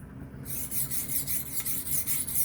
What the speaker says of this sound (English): I'm just gonna refresh this bevel.